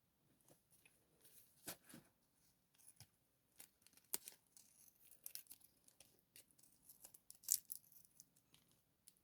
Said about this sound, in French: il vous reste à couper tout le scotch qui est autour de l'œuf